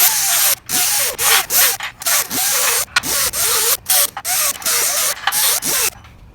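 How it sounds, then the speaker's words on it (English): A grinder fitted with a new coarse Scotch-Brite pad works stainless steel in short, loud bursts of whirring abrasion, about a dozen passes with brief pauses between them and a rising and falling pitch. "So I just put a brand new coarse Scotch-Brite in my grinder, and I'm going to go around and just hit it with this"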